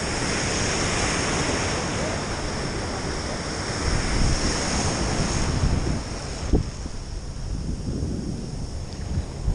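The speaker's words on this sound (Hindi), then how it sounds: "ये है समुंदर" Sea waves wash and rumble at Manora beach in Karachi while strong wind buffets the microphone, a continuous roar with occasional surges and thumps.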